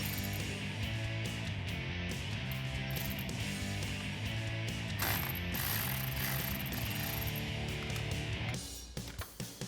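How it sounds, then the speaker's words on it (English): A ratchet wrench with a 10 mm socket loosens a nut while a 36-inch LED light strip is fitted to a 2021-2022 Ford Bronco, making rapid, continuous close-up clicking for several seconds before tapering off. "So I'm going to loosen this nut right here with my 10 mil."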